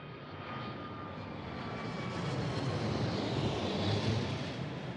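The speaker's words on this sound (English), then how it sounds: "I soon find myself in the belly of a C-130 transport plane back to the States" A C-130 transport plane's propeller engines drone heavily from inside the fuselage, a loud, steady rumble that swells slightly over the span.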